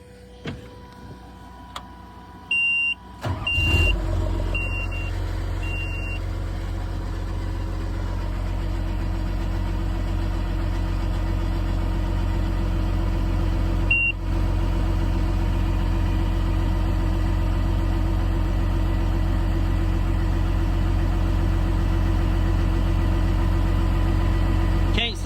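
A John Deere 750J hydrostatic dozer's diesel engine cranks and catches, then runs at a steady, loud idle with a deep continuous rumble, preceded by a few brief beeps and clicks.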